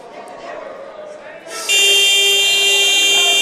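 Wrestling tournament timer buzzer sounding in a gym, a loud sustained electronic tone that cuts in and holds steadily over crowd noise and talk.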